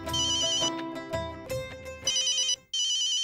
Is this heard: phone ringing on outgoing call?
yes